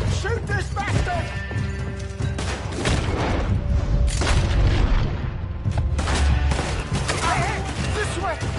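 Gunfire and explosions fill a Red Dead Redemption 2 shootout against raiders, with dense overlapping shots and booms under shouted voices, loud and continuous throughout.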